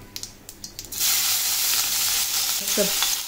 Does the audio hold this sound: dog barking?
no